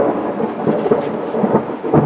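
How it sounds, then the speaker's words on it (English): Thunder rumbles during a thunderstorm, a loud, rolling low roar that swells in repeated waves with rain-like hiss beneath it and no talking. "I can live with the thunder."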